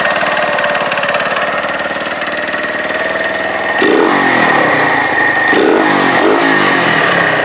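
A Keeway RKV125 motorcycle engine idles steadily, then is revved sharply several times, the pitch rising and falling in quick bursts, loud and close.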